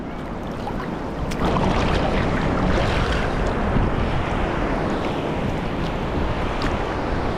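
Large ocean waves crash and roar onto the beach at Inverloch, Australia, a loud continuous surf wash with wind buffeting the microphone, swelling after the first second and staying steady throughout.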